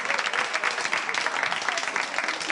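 Studio audience on a French game show applauding a contestant, dense and loud sustained clapping filling the whole stretch without pause.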